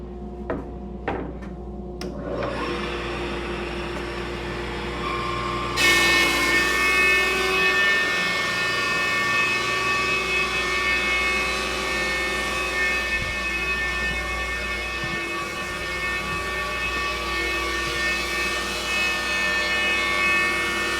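An Oliver 10055 15-inch bench top planer spins up after a few knocks and runs at a steady, loud whine with a bright tonal hum, continuing unbroken for the rest of the stretch without talk.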